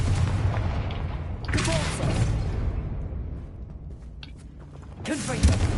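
Confringo blasting spell explosions in Hogwarts Legacy, in a video game: two booming blasts with crackling debris, one early and one near the end, with quieter rumble between.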